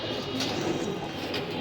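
Racing pigeons in a loft coo softly and continuously, a low, faint murmur of calls with no talking.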